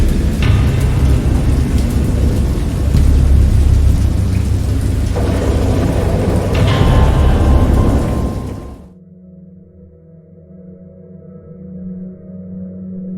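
Heavy rain pours with deep rolling rumbles of thunder for several seconds before cutting off to a low, quiet hum.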